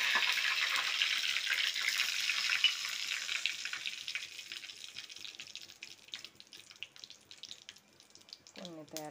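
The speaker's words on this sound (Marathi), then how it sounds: "फोडणी दिली, तिला तडका मारला." Curry leaves dropped into hot oil for a tempering for dosa chutney, a loud bright sizzle that slowly fades to scattered crackles, with a brief voice near the end.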